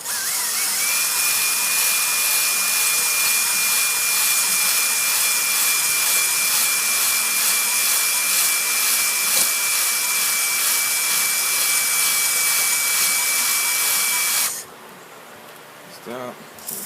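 Steady high whirring drone of a drill-driven hone working inside a Banshee cylinder lubricated with WD-40, running loud and continuous before cutting off abruptly near the end.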